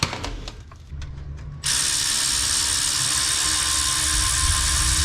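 Ratchet wrench tightening traction spacer bolts on a car's crossmember, a few quick clicking strokes, then a loud continuous mechanical whir that stays steady and close to the end.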